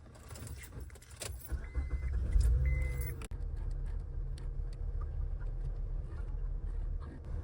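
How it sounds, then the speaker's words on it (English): A Honda Ridgeline pickup truck engine turns over after a brief jingle of keys, then settles into a steady low idle rumble that continues close by without any talk. "I'm just gonna start the truck and see if this one will work."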